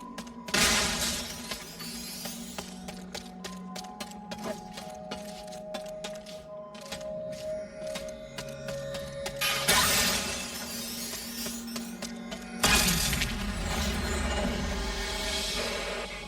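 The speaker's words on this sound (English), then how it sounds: "Glass." Glass shatters loudly in the Ratchet and Clank: Rift Apart video game on PS5, with a sharp crash followed by tinkling debris, another burst of breaking later, all over a steady musical game soundtrack.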